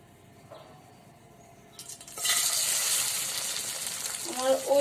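Bread coated in a tomato and onion mixture sizzling in hot oil in a pan, a soft frying hiss that swells suddenly and keeps crackling steadily, with faint speech and a few light clinks.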